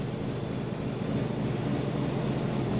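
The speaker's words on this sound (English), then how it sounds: "the beautiful sound of the engine as it roars back into life" A video-game U-boat submarine engine starts up: a steady, deep engine drone rumbles continuously at a constant loud level, a heavy mechanical hum with no pauses.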